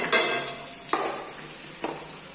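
Garlic and cut dried red chillies sautéing in a pan for mango and lime pickle, a steady soft sizzle with a few sharp stirring scrapes of a spoon against the pan, close and moderately quiet, no talking.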